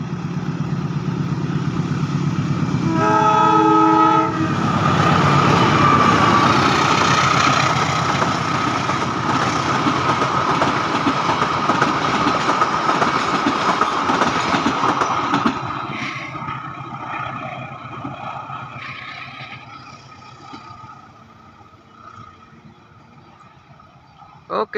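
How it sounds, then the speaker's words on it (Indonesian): A Probowangi passenger train bound for Ketapang, Banyuwangi, passes close by with a loud, sustained roar of engine and wheels, a short horn-like tone early on, fading gradually as it moves away; no talk over it. "Semoga selamat sampai tujuan kereta api Probowangi tujuan akhir Ketapang Banyuwangi."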